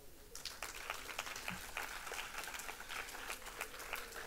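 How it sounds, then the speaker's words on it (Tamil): An audience at a Tamil speaking event gives a round of applause, a steady crowd clapping with sharp individual claps standing out, moderately distant and continuing evenly after a brief quiet start. "உங்களுக்கெல்லாம் ஒரு நல்ல கைதட்டு கொடுங்க."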